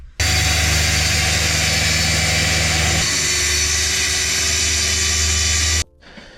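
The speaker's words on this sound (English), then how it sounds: "main cuts with the saw, and then using a handsaw just to come up to the corners." A power saw runs loud and steady for nearly six seconds while making the main cuts on IKEA kitchen units during a Sprinter van conversion, its pitch dropping partway through as the blade bites, then stopping abruptly.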